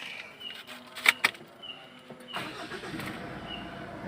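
A Mitsubishi Pajero gives off a strange high squeak likened to a mouse or shrew, heard from outside when shifting into gear: two sharp chirps early on, then rough engine rumble and hiss.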